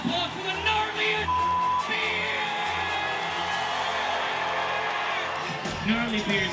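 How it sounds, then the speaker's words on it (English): Audience at a beard competition cheering and whooping, loud and sustained with yells rising from the crowd while a host's voice carries over the noise. "how about a round of applause for the gnarliest"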